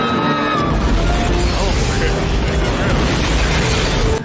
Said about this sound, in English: Now, they blow that up.